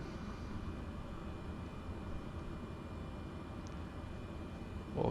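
Cessna C208 turboprop engine at high idle in Flight Simulator 2020, a steady low broadband drone that holds evenly throughout without speech.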